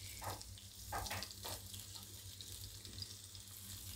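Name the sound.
water added to sizzling cauliflower curry in a pan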